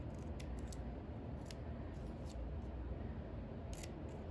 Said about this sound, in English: I'm going to trim